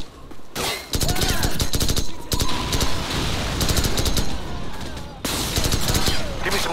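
Dense bursts of automatic gunfire in a Call of Duty: Modern Warfare battle, loud and sustained with rapid overlapping shots and brief lulls, a voice briefly calling out beneath the clatter.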